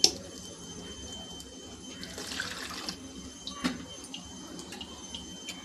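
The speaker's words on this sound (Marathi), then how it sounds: "आता मी हे ह्याच्यामध्ये पाणी टाकणार आहे" Water is poured into a container holding five or six small fresh brinjals, a faint splashing trickle that swells for about a second midway amid quiet kitchen background.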